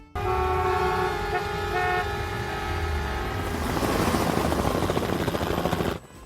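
A cartoon helicopter's rotor thrum and engine whine fill the scene loudly, a steady horn-like tone early on, then broadband chopping roar before cutting off.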